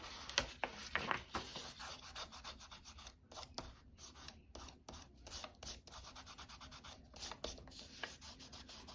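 Fingertips rub at a slightly stuck piece on a craft project, producing a quiet, close, rapid series of dry scratchy strokes that continue in bursts throughout.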